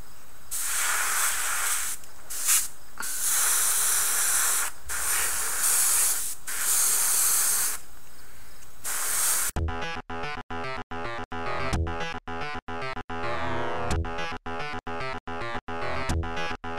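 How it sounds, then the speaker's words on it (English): Grex Tritium airbrush spraying a paint base coat onto a miniature model, a close steady hiss in bursts of several seconds with short pauses, later giving way to unrelated rhythmic music. "For this step I'm going to be using my Grex Tritium airbrush."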